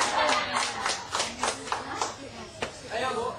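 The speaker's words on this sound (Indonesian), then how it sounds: "Ya, tepuk tangan sekali" An audience at a teachers' workshop claps in a run of distinct, rhythmic hand claps, fairly close and moderately loud, with voices talking over and between the claps.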